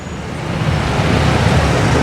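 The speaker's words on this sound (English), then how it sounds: "The traffic in Davao is really bad when it's bad." Steady road traffic on a busy street in Davao City, Philippines, with cars, buses and trucks passing close by in a continuous loud rumble that swells slightly, no voices heard.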